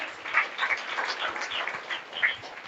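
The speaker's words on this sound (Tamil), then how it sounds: "கைத்தட்டி இயேசுவின் நாமத்தினாலே" Church congregation clapping their hands together in a steady, brisk patter of many palms, moderately loud and continuous with no talk over it.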